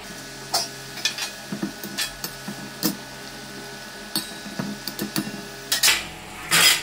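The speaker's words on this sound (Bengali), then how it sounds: "এবার ভেজে রাখা মাছটা দিয়ে দেবো।" Fried bata fish going into a simmering mustard curry, a low bubbling sizzle under repeated clinks and scrapes of a spoon against the pot, no one speaking.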